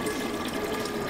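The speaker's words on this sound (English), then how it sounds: "Obviously, I had to fill the water bottles up." Water bottles are filled from a tap at an airport before a long flight, a brief steady gush of running water with no voices.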